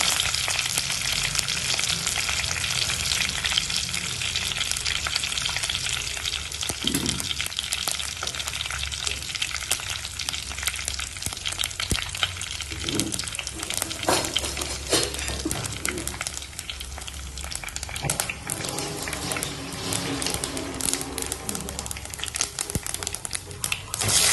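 Mustard, fennel and fenugreek seeds sizzle and crackle in hot oil for a fish curry, a loud, continuous close fry with the occasional spoon stir and popping seeds.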